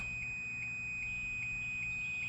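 An oil pump cancel kit alarm on a Mercury 175 two-stroke outboard gives a steady run of short, evenly spaced high beeps, about one every 0.4 seconds, over a low background hum.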